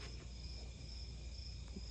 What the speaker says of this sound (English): we got crickets going